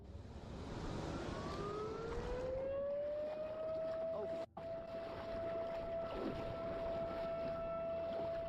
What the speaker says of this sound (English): the fishing trip was suddenly interrupted by a loud, blaring noise. A siren.